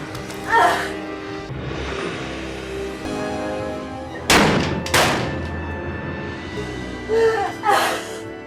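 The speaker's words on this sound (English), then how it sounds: "After a burst of gunfire" Several sharp, loud bangs ring out in a short burst, with gasps and frightened voices between the shots.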